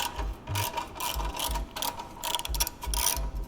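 Ratchet on a 13mm socket with an extension loosening an exhaust clamp during an SC Project GP22 exhaust install on an Aprilia RSV4: quick bursts of metallic clicking strokes, close and fairly loud, repeating in an uneven rhythm with no talk.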